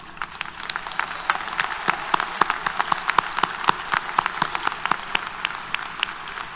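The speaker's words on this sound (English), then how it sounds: "let's give this new alumni a round of applause" A graduation audience applauds new alumni, a dense patter of many hands clapping close by, sharp individual claps standing out in a steady burst that carries on without talk.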